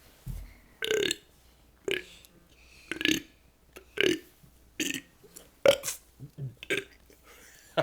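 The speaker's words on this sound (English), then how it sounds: "you wouldn't be able to help me belch the alphabet" A man belches the alphabet, a string of about eight loud, separate burps spaced roughly a second apart, each a short voiced croak close to the listener.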